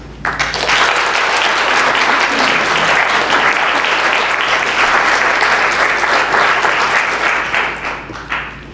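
An audience at the Salvos Prelorentzos Peace Awards 2018 applauds to welcome the keynote speaker, with sustained loud clapping from a large crowd that rises quickly and fades out after several seconds.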